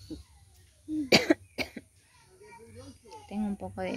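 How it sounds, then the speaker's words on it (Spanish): A couple of sharp, close coughs from a young voice, followed by someone talking. "Tengo un poco de tos"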